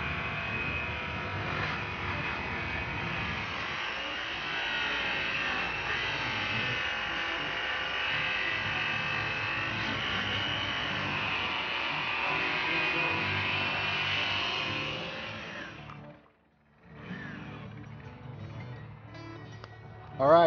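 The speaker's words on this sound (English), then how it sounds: "we just finished up the final finish stage with that 10-inch all cotton 60 ply and the white chrome rouge" A 10-inch 60-ply all-cotton buffing wheel loaded with white chrome rouge polishing an aluminum wheel, a continuous high motor whine and buffing hiss that cuts out briefly near the end before resuming.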